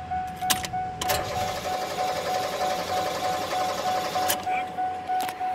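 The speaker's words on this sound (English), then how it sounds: "Pony motor operations." A small pony motor used to start a larger engine chatters in a fast, steady, sewing-machine-like rhythm, loud and close, punctuated by a few sharp metallic clacks.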